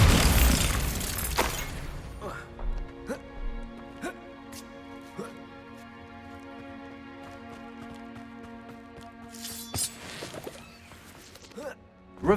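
A Bombarda spell blast in Hogwarts Legacy: a sharp explosive burst opening the clip, followed by debris and shattering crackles, ringing tonal game sounds, and another burst near the end, no speech.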